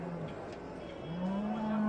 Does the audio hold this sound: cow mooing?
yes